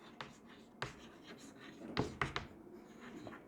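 Marker or chalk strokes on a classroom board during a biology lesson, with a few quiet scratchy strokes and taps spread out over several seconds in a quiet room.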